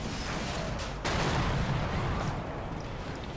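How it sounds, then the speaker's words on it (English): A large explosion in the World War II strategy game Combat Mission Battle for Normandy: a dense, steady roar of blast and gunfire-like noise that swells suddenly partway through and stays loud, with no voices. "looks like that was quite a big explosion"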